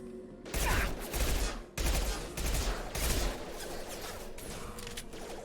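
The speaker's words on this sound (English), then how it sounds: "Shotgun." Shotgun blasts in the video game Mass Effect 2 ring out as four or five heavy, booming shots spaced about a second apart, each with a sharp onset and a lingering roar, loud and close.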